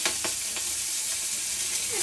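Onions added to meat frying in a pan give a loud, continuous sizzle with a few stirring scrapes near the start, close and with no talk over it.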